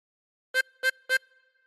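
A 16-hole tremolo harmonica blown on hole 5 sounds three short, evenly spaced reedy notes of the same pitch, close and clear, with a faint ring after each.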